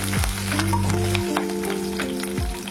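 Mustard seeds, cumin, slit green chillies, curry leaves and cashews sauteing in hot oil, giving a steady close sizzle with light crackles and a few stirring scrapes, no voices.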